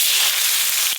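Five-spice tempering crackles and spits in hot mustard oil, a loud, dense sizzle with a few sharp pops right up close.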